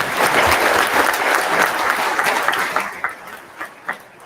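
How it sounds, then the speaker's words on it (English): Theater audience applauding at an evening event with Yankees closer Mariano Rivera, a full dense burst of clapping that fades after three seconds into a few scattered claps and faint laughter. "how about a round of applause, please?"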